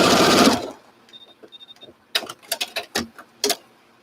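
A sewing machine runs briefly and loudly, stitching quilt pieces with a quarter-inch seam, then falls quiet to a series of light clicks and handling taps.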